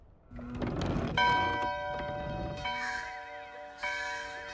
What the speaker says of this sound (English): I'm gonna pull the rope. Ding dong.